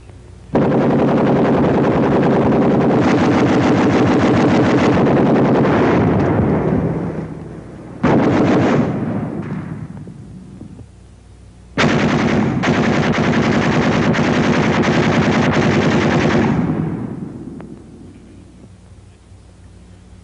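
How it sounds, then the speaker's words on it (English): A WWII-era American .30 caliber machine gun fires rapid, loud sustained bursts: one long burst, a short one, then another long burst, each followed by a rumbling echo that trails off. "And this is a machine gunner's dream. He can mow them down like wheat at 250 rounds a minute."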